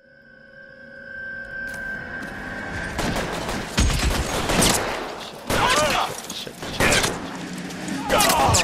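Rapid bursts of gunfire in an LA Noire video game shootout, loud and dense, with sharp volleys breaking out repeatedly over a busy mix, and a voice shouting among the shots.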